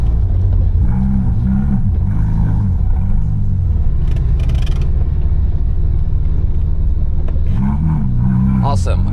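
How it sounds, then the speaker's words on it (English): A Porsche 997 GT3 laps the Nürburgring from inside the cabin, its engine droning loud and close with repeated rising rev sweeps through gear changes, a deep rumble in between, and someone talking over it. "Welcome to this lap in this 997 GT3."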